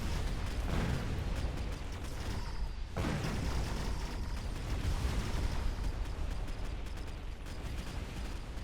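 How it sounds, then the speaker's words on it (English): Missile blast in the strategy game Mechabellum: a loud, dense rumbling roar with a brief dip, then sustained noisy crackle and debris under steady battle din. "Here is boom, the first missile"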